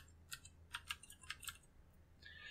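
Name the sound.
typing on a computer keyboard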